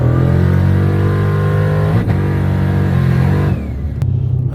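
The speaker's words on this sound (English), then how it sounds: "First real drive in an auto swapped turbo Hellcat." An automatic-swapped turbocharged Dodge Hellcat runs loud and close, its engine droning steadily, then briefly dipping and revving again before easing off near the end.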